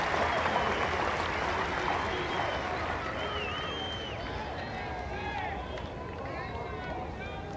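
A big, enthusiastic cricket crowd at a 1995 South Africa versus England Test match roars with sustained applause after a boundary four, a dense wash of clapping and cheers that carries on under commentary.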